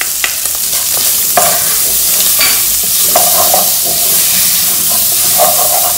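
Two garlic cloves sizzle and fry in a pan while being stirred, a steady loud crackling hiss with repeated scraping knocks of the utensil, close up and with no voices.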